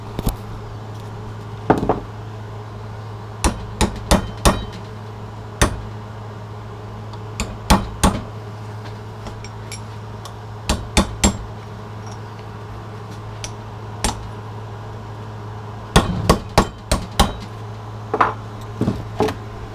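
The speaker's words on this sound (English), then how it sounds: "Now when I hit them, I hit it on the small one and the big tab, just get them loosened up." A hammer strikes metal tabs on a Cummins engine part to loosen them, with sharp metallic taps coming singly and in quick clusters at irregular intervals, close and loud over a steady low hum, with no talking.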